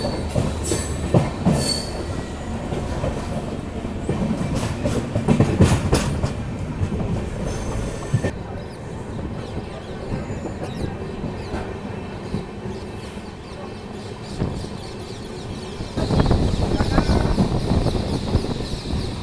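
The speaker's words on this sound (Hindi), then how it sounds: "हमारी ट्रेन यहाँ पे सिर्फ 2 मिनट रुकने वाली है और हमारी ट्रेन अभी 3 मिनट लेट चल रही है।" Indian Railways Ahmedabad–Udaipur Intercity Express running on the line, a steady loud rumble of wheels and carriages with clattering and brief squealing, a noise burst midway and a louder surge near the end.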